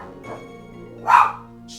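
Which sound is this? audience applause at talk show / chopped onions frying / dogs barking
dogs barking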